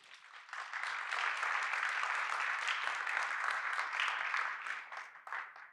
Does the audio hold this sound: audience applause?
yes